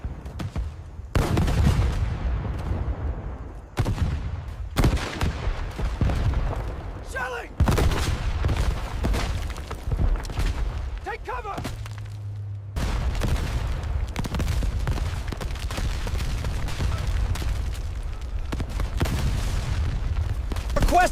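A Japanese 75mm Type 41 mountain gun firing in World War II: heavy booms that come again and again with short gaps between them, loud and reverberant, with rumbling sound lingering between the shots.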